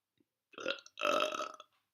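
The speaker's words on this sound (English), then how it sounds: "I feel like burping." A single drawn-out burp in two close pulses, fairly loud and alone against silence.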